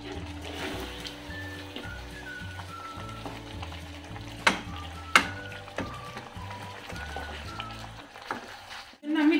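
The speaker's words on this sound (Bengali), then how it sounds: "এটা আমি ভালো করে নেড়ে নেব" Chicken rezala is stirred in a pan as it cooks, with a soft sizzle, scraping and a few sharp knocks of the spoon against the pan, over a low steady hum; no voices.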